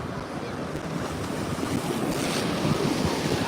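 Ocean waves surge and wash ashore at Bethany Beach during coastal flooding from Hurricane Erin, a loud continuous rush of surf building toward the end, with heavy wind buffeting the microphone.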